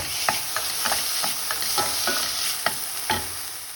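Garlic and chopped tomato are being stirred in a frying pan, with a steady sizzle throughout and about a dozen brief scraping strokes of the spoon at an irregular rhythm.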